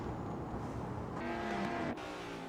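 Corvette and De Tomaso race cars circling Kyalami in a racing simulator, a steady engine drone with a rising note as one car closes in, followed by a brief sharp drop in sound.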